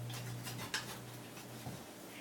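A thin metal spatula scrapes under homemade Southern biscuits in a cast iron frying pan, making a couple of brief clinks and scrapes over a low steady hum, with no talking.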